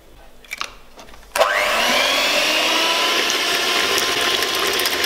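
Sugar, whole eggs and an extra yolk for a soft ricotta and strawberry cake whipped by an electric mixer, a steady loud whirring drone that starts abruptly and runs on without pause, with a few faint clinks before it.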